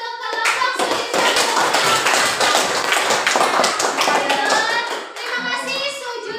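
Classroom applause for a student group at an Islamic school teaching practice session, many hands clapping briskly and steadily for several seconds, close and loud, briefly dipping before continuing.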